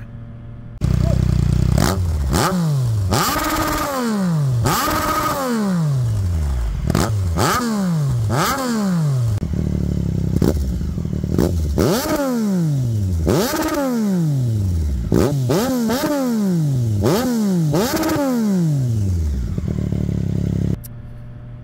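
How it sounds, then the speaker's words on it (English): A 2024 Triumph Street Triple fitted with a Yoshimura slip-on exhaust, ridden through repeated gear changes, with loud engine revs rising and dropping in a steady cycle of accelerations and shifts, close-miked and without voice. "take a ride on the bike and see how it sounds"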